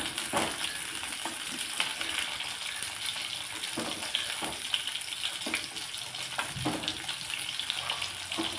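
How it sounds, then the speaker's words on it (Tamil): Small shallots and dried red chillies fry in plenty of oil in a kadai, making a steady bubbling sizzle with intermittent stirring clatters nearby. "நம்ம அதே கடாயில் சின்ன வெங்காயத்தை போட்டு எண்ணெய் ஊற்றி அதை நல்லா வணங்க விடுங்க"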